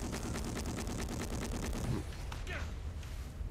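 Rapid automatic gunfire from a gun mounted on a ridden bat in the video game ARK: Fjordur, a dense run of repeated shots for about two seconds that then cuts off, leaving a steady rumble with a brief whoosh.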